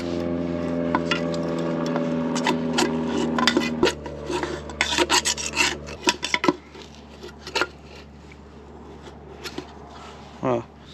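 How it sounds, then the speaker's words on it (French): Dirt packed in the bottom of a Land Rover Defender 90/110 radiator-system part is scraped out with a tool, giving bursts of rasping and metallic scratching, fairly close, over a steady low background hum. "Et là on va gratter la merde qu'il y a au fond."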